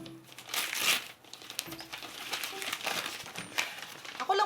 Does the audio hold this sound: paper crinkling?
yes